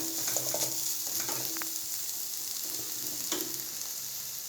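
Mint leaves for chutney sizzling in a pan as they are sautéed and stirred, a steady close hiss of frying with light scrapes of the spoon and no talk.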